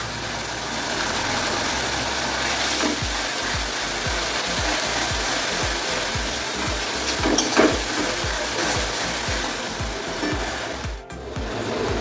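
Chicken pieces frying in a pan with ginger-garlic paste, green chilli and salt, steady close sizzling with a rhythmic scraping stir throughout, no talking.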